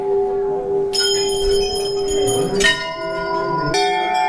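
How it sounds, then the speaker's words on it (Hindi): Many metal temple bells ring at Golu Devta temple, with clear sustained tones and fresh strikes that layer into a loud, ringing chorus. "देखो आप घंटियाँ कितनी सारी है, इतनी सारी घंटियाँ यहाँ पर इस मंदिर में"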